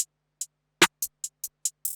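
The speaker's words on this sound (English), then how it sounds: "and then I just use this roll so it sounds like this." A hi-hat roll in a beat: a sequence of crisp, bright ticks at irregular spacing, one heavier hit with a snare-like body midway, ending in a quick rapid flurry of hats. The hits are close and dry with no talk.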